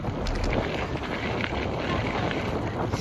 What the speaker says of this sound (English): Probably hear the wind noise.